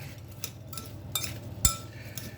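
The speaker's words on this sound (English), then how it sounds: "And I'm going to stir this up" A spoon stirs apples with brown sugar in a bowl for bread pudding, making a few soft scrapes and sharp clinks against the bowl over quiet room tone, close and faint.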